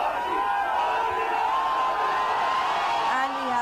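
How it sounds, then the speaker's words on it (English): A large crowd cheers and chants for Prime Minister Modi at Mandi House metro station in Delhi, a dense, continuous roar of many voices with whoops and shouts, steady and loud throughout. "here we have the crowd there going berserk"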